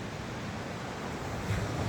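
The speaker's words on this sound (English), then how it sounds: "Hear those waves." Ocean waves break on a beach at Mystic Beach on Vancouver Island, a steady roaring wash of surf with wind rumble, continuous and moderately loud throughout.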